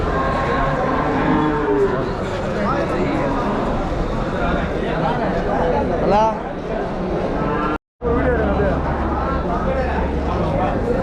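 Cattle lowing at a busy rural cattle market, several moos rising above steady crowd chatter and talk, with a brief dropout near the end.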